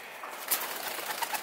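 A racing pigeon gives a brief, soft coo that sits faintly in hissy background noise.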